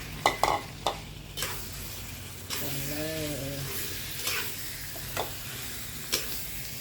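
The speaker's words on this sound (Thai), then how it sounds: "แล้วก็ใส่ไก่ลงไปผัดได้เลยค่ะ" Chicken sizzles as it is stir-fried with curry paste in a pan while a utensil scrapes and clacks against it every second or so; a voice speaks briefly in the middle.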